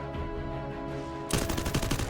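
Rapid bursts of gunfire from a Thai competitive team shooter match break out suddenly after a quieter stretch, loud and dense with repeated shots in quick succession.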